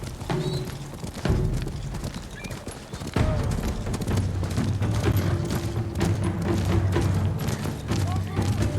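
A horse gallops in Ghost of Tsushima, rhythmic hoofbeats pounding steadily and close with snorts and combat thuds, a person talking over the ride.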